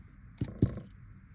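Two quick, crisp metallic snips close together as a link of a necklace chain is cut, with quiet background in between.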